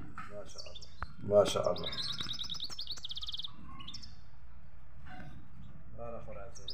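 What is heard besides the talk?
goldfinch chirping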